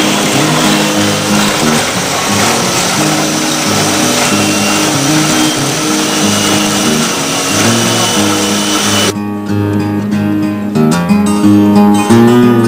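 A motorbike engine runs steadily at speed, driving an axial flux alternator, loud and close with a continuous mechanical drone; partway through the high hiss drops away, leaving the lower engine hum with some rattling.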